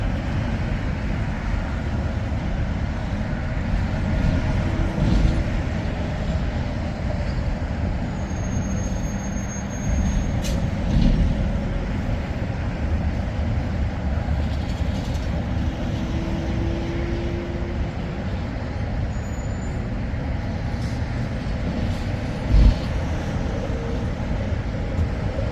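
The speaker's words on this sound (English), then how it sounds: "Wait on this yellow truck to cross." A yellow truck crosses a truck scale, heard as a constant heavy engine drone and road rumble with a few faint clunks and a brief thump near the end.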